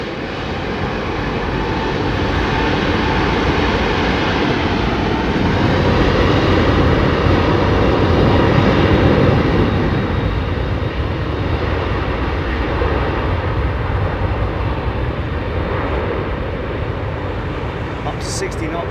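An airliner taking off at London Heathrow Airport, a loud sustained jet engine roar that swells to a peak midway and then slowly eases while staying strong, with someone talking intermittently over it.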